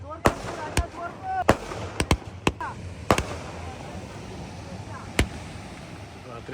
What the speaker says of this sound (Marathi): मस्त फटाके फुटतात.